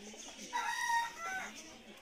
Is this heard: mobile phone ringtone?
no